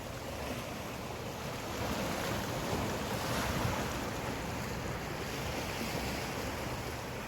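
Atlantic Ocean surf rolling onto a rocky shore, a steady broad wash of breaking waves mixed with wind noise on the microphone, continuous and fairly loud throughout.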